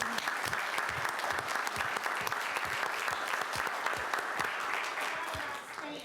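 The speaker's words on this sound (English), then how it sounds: "I think all of you deserve a round of applause" Steady applause from a room of people at a city council meeting, sustained clapping for several seconds with a faint murmur underneath.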